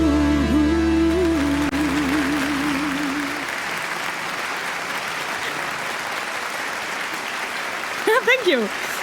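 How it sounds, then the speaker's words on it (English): A crowd at a corporate certification celebration applauds in a steady, full wash of clapping that follows a sung passage, with a voice briefly speaking near the end. "So nice to hear applause."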